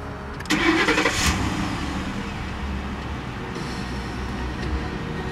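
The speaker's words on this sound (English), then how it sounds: "let's fire her up" A 2007 Ford Crown Victoria Police Interceptor engine cranks and catches near the half-second mark, then settles into a steady, close idle that runs on alone to the end.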